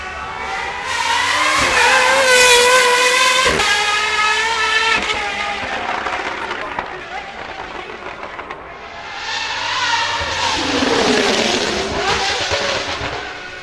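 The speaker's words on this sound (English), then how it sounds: "but that sound of V12 from Cosworth, it's incredible" A high-revving Cosworth V12 hypercar engine wails loudly, climbing in pitch, easing off, then surging up again in a second howling rev.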